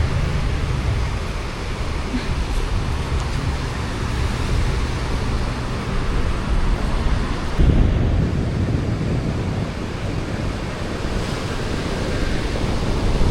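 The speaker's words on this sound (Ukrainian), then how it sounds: "Сьогодні хвиля не така велика на морі але вітряно." Sea surf washes in continuously while gusty wind buffets the microphone, a loud, steady roar of waves and wind.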